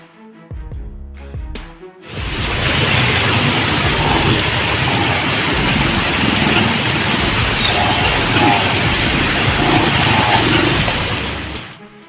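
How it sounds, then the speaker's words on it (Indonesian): Heavy rain pours onto a flooded main road in Dringu, Probolinggo, a loud, dense, steady roar that swells in after a couple of seconds of brief sounds and carries on alone to the end. "hujan lebat yang turun mulai sore hingga Kamis 28 Januari malam membuat jalan raya Dringu di Kecamatan Dringu, Kabupaten Probolinggo terendam banjir"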